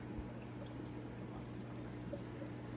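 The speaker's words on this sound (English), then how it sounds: "Let it drip real quick." Water drips and trickles from a scoop of floating aquarium plants lifted out of a tank, a faint, continuous light patter running steadily under a low background hum.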